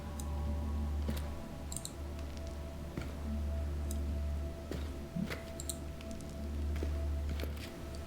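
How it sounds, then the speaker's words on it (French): Knuckles cracking in the horror game Amnesia: Rebirth, a few sharp, scattered clicks over a steady low ambient hum with no talking. "je fais aussi profiter des craquages de doigts"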